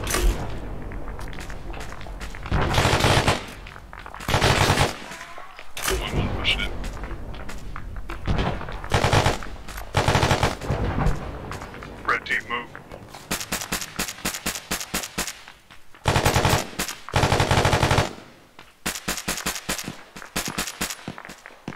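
Gunfire in a drug and human trafficking den raid, likely from a video game, with repeated loud bursts of shots spread across the scene, heavy thuds and thumps between them, and talk running underneath.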